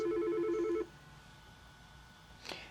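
A Yealink T48-series VoIP desk phone rings with an incoming call, a short burst of repeated electronic trill that stops abruptly, followed by near silence and a faint click.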